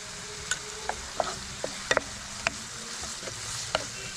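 Small onions with salt sautéing in a pan for a beef curry, a constant quiet sizzle punctuated by sharp ladle taps and scrapes against the pan at irregular intervals, close up with no voices.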